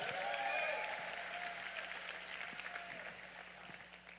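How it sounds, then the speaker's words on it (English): Audience applause at a conference talk, a dense steady clatter of many hands clapping that carries on for several seconds and tapers off only slightly toward the end. "let's give a big hand of applause"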